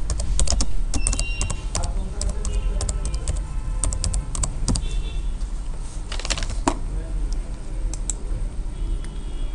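Rapid typing on a computer keyboard as an organization name is entered, dense irregular key clicks and clatter running continuously, close and fairly loud, with no voice.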